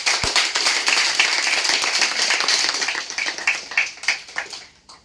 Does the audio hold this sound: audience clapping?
yes